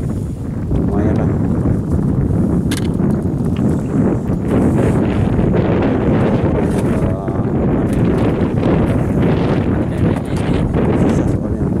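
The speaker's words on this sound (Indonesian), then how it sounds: "Nah itu bosku, anginnya banyak. Besar." Strong wind buffets the microphone at night beside a river during net fishing for mullet, a loud continuous roar with gusting texture throughout, no clear voices over it.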